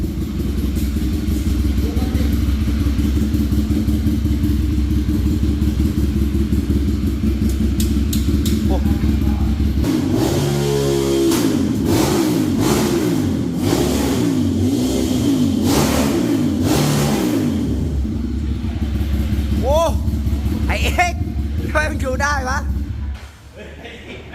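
Motorcycle engines start and rev loudly, throttle blips rising and falling in bursts, close by with a constant rumbling idle underneath.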